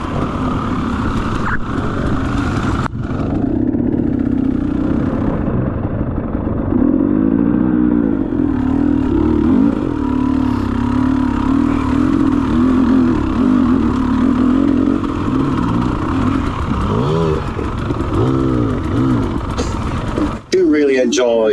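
Off-road motorcycle engine held at a steady, loud note as the bike rides straight through a puddle, with clattering and splashy noise riding over it and a brief clunk near the end.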